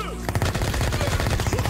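Rapid automatic AK-47 fire from the video game IGI rattles out in a loud, close, continuous burst of evenly spaced shots.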